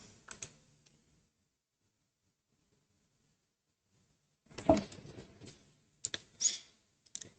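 Keystrokes on a computer keyboard as a C include line is entered, appearing in two short bursts of quick clicks separated by a long silence, close and fairly quiet with no voices.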